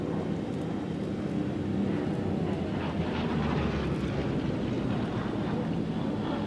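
A Spitfire flies in at the Flying Legends air show at Duxford, its engine a sustained droning roar that swells slightly midway, with wind rumbling on the microphone and no speech.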